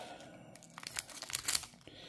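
Scissors cut into the foil wrapper of a Disney booster card pack, giving a few short crinkling, tearing rustles that build toward the end, close and fairly soft, with no talking.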